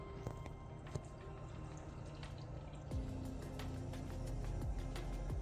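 Water trickles and drips into a PC water-cooling loop reservoir as it is filled, a quiet, steady pour with small splashy drips scattered throughout.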